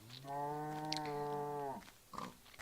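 A cow moos once in a video game, a long, deep, close call that fades out, with soft game sounds afterward.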